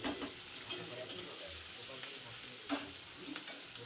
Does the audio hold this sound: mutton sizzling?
yes